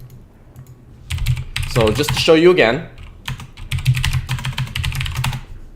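Keys clatter on a computer keyboard as code is typed during a Python programming livestream, a steady run of clicks through most of the stretch, partly under a man's speech.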